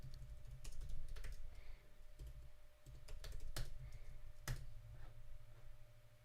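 Keyboard typing on a computer in bursts of clicks, close and moderately loud, with short pauses between runs of keystrokes and no talking.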